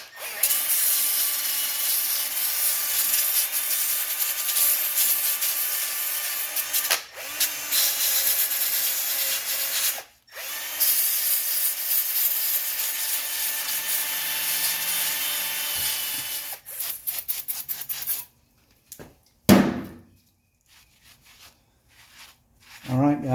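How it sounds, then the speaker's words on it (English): A 100 grit sanding pad on a power tool cleans surface rust off the wheel hub of a 1984 Mercedes 300TD, a continuous loud grinding whine broken by brief pauses and ending in short bursts, close up. "clean up the surface rust on the hub"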